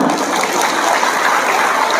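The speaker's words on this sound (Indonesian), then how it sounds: "Tepuk tangan." Brief burst of dense audience clapping at an Indonesian religious gathering, steady and moderately loud throughout, with no voices over it.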